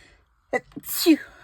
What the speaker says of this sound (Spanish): ¿Por qué estornuda siempre 2 veces?